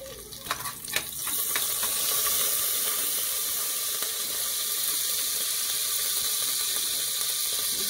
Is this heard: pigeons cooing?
no